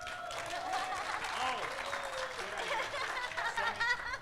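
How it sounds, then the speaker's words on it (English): A small group claps and waves for a photo, with light chuckling and voices mixed through the patter of hands. "So you're going to all wave and clap, please."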